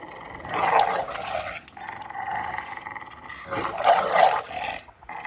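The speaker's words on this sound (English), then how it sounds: "That's my dogs." Dogs in a pack growling and barking up close, deep rumbling snarls swelling in two loud bursts with quieter growls between.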